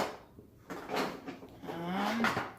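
A long kitchen drawer slides open or shut during cookie baking, a brief near rolling scrape with a couple of soft knocks, fairly loud in a quiet kitchen.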